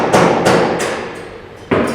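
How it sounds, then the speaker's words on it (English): Loud, ringing hammer blows strike metal inside a railway museum, several evenly spaced strikes close by with a brief gap before a final blow. "Excuse the hammering."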